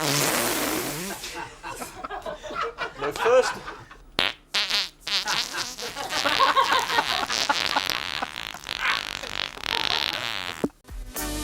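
A performer produces a long run of loud, varied farts, sputtering, buzzing and popping in rapid bursts with brief pauses, voices intermittently mixed in.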